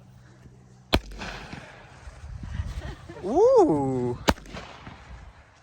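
Fireworks go off outdoors with two sharp, loud bangs about three seconds apart, and a voice exclaims in between.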